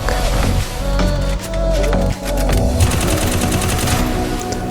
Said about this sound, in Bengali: একটা হেডশট মারে ডাউন করে দিল